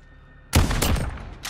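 A VLK Rogue shotgun fires a single loud, close blast in the Modern Warfare video game, followed by a short decaying rumble and a smaller thud near the end, after a quiet start.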